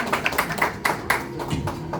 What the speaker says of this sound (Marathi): एकदा वाद्यवृंदासाठी सुद्धा जोरदार टाळ्या